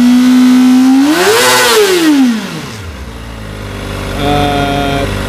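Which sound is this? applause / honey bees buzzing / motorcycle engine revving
motorcycle engine revving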